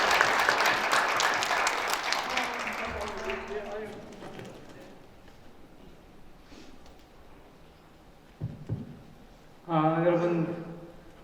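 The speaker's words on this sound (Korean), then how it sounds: "다시 한번 박수 부탁드리겠습니다." Applause for a poet after a breakfast lecture fades out over several seconds, followed by near silence, then a voice begins speaking.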